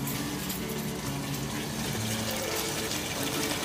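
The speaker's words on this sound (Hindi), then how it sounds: "तो ये दो गिलास पानी मैं अभी इसमें डाल दूंगी पूरा" Water pours into a pot of soaked rice for vegetable pulao, a loud continuous splashing gush close by that holds steady throughout.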